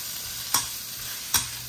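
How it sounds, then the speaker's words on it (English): Onions and spices cook down in a pan with a steady background sizzle, while two distinct scraping stir strokes sound about a second apart, close and fairly quiet, with no talking. "So now I got all those in there, and then mix this up. The onions are cooking down."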